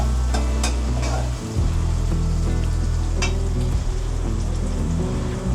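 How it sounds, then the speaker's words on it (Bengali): Onions frying in a pan until reddish-brown for a rui fish curry with flat bean seeds, a steady loud sizzle and crackle with stirring scrapes, briefly dipping then continuing alone. "তো দেখতে দেখতে আমার পেঁয়াজগুলো ভাজা হয়ে গেছে"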